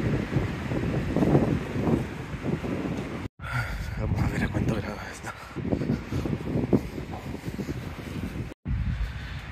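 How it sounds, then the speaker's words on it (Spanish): Strong wind buffets the microphone outdoors at mountain cabins in Chalatenango, a loud continuous rumbling roar with gusts and two abrupt dropouts, while someone talks over it. "y está haciendo un viento se siente como con agua también"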